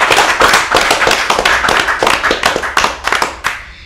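A small crowd claps for a metal band in Surabaya, loud, close, uneven hand claps beating steadily for several seconds before thinning out at the end.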